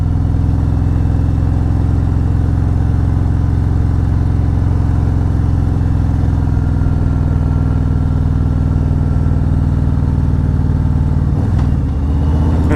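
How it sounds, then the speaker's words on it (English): A car descends a steep Texas Hill Country road under engine braking, a loud, steady low engine drone held throughout with a brief change in pitch near the end. "engine braking though"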